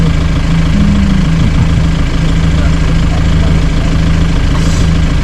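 A vehicle engine labours on a steep hill road near Thekkady while a tyre spins, giving a loud, steady low drone that holds for the whole stretch.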